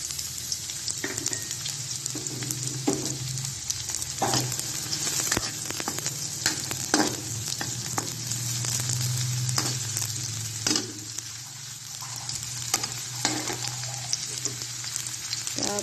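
Onions sizzle steadily in a hot pan, with repeated scraping and clinking strokes of a spatula as they are stirred, close and fairly quiet, with no talking.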